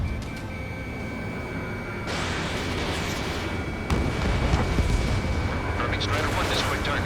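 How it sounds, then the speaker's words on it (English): Missile launches and explosions in the combat flight game Ace Combat 7, with dense rumbling blasts and booms building over several seconds under radio chatter and heavy jet noise. "Strider 3, launching missile."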